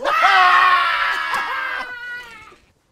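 A person screams and wails in one long, loud, close cry that wavers in pitch and then fades away over about two and a half seconds.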